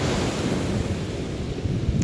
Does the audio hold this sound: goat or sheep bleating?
no